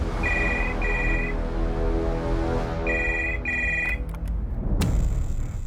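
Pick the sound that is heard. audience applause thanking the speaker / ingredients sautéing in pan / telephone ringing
telephone ringing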